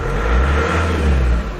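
A vehicle engine is revved at idle during installation of a 50A Redarc DC-DC charger, giving a steady, loud low rumble that swells briefly and then eases, with no talk over it.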